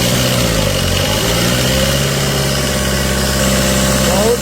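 A loud Tata Safari SUV engine idling close by after a new radiator is fitted, a steady low rumble with constant vibration throughout.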